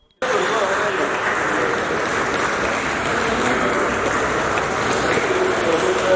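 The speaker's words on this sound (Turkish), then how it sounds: "Belediye personeli Başkan Söğüt'ü alkışlarla karşıladı." Municipal staff applaud their returning mayor with dense, sustained clapping from a crowd, starting abruptly and holding loud and steady throughout, with voices mixed in.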